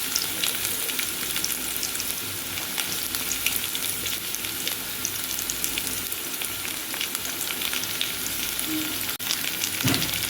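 Onions and garlic frying in hot oil in a pan, a continuous close crackling sizzle with occasional stirring scrapes, steady throughout with no talk.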